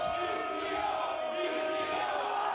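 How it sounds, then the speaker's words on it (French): Wrestling crowd at an FMLUTTE show roaring and cheering steadily for a wrestler after a leg-drop setup, a dense sustained wall of voices at an even loud level. "la foule montre leur appréciation face à PCO"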